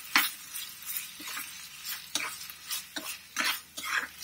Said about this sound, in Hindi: इसे अब हमें अच्छे से मिक्स कर लेना है।